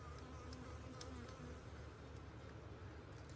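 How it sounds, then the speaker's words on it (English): A honeybee buzzes close to the ear in a steady, continuous drone that is faint overall, with no talking heard. "My sweet little honeybee buzzing in my ear"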